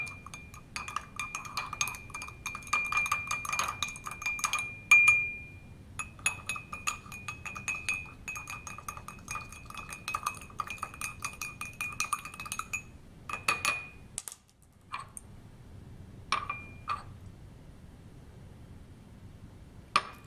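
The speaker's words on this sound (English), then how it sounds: "I'm going to just shake these glasses until this is dissolved" Drinking glasses shaken to dissolve an acid rain experiment mixture ring out in steady, bright clinking runs that pause briefly and resume, close and fairly quiet with no voices.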